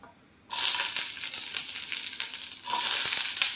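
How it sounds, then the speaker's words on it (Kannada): Onions dropped into two tablespoons of hot oil give a sudden loud sizzle that keeps hissing steadily, with a brief stir and a fresh surge of sizzling near the end. "ಚೆನ್ನಾಗಿ ಫ್ರೈ ಆಗಬೇಕು,"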